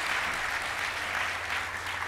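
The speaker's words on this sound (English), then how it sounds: "So please give a round of applause to our wonderful, absolutely." A conference audience at a performing arts closing plenary claps in a thick, continuous wash of applause, many hands together at a steady, fairly loud level with no break.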